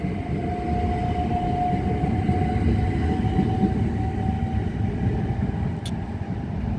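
A Class 375 electric train departs Ashford International, a steady rolling rumble and rail hiss filling the platform, with a sustained whine and a brief sharp squeal near the end.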